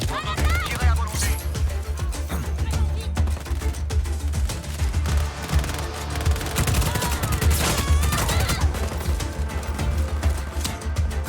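Dense, continuous gunfire from the action game Just Cause 4, with rapid automatic bursts and shots layered over a steady low rumble of battle noise throughout.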